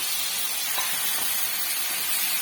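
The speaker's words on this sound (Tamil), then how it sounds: "இப்ப நம்ம நண்டு போட்டாச்சு. இத நல்லா மசாலா படுற மாதிரி நல்லா வதக்கி விட்டுக்கலாம்." Crab being sautéed in masala in a pan, a dense continuous hiss and sizzle that stays loud and even throughout, with no voices.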